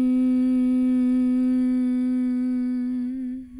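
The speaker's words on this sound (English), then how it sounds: "you're going to seal your lips and hum out of your mouth as you exhale" A person hums through sealed lips on a long exhale in bee's breath breathing. The single steady, close tone holds a constant pitch and fades as the breath runs out.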